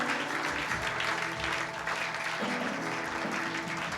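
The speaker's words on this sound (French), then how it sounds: "On peut applaudir notre Seigneur?" Church congregation at a charismatic service claps together, with moderate, sustained applause mixed with faint voices and some background music tones, heard from within the room.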